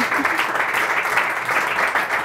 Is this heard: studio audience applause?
yes